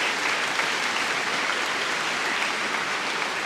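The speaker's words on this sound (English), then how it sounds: "One more time, round of applause." An audience at a high school graduation ceremony claps in a steady, dense round of applause that fills the hall throughout.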